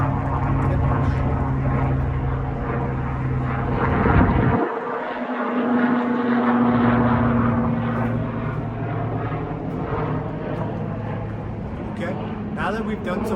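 A propeller airplane drones overhead, its engine hum loud and steady throughout, swelling and easing as it passes during an outdoor Tai Chi rehab session, with a voice speaking over it.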